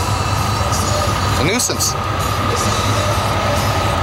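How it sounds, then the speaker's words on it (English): A train rolls through a rail crossing in Cranbrook, BC, a steady loud rumble with passing wheel noise throughout, while a person talks over it. "Sitting here waiting for a train to cross"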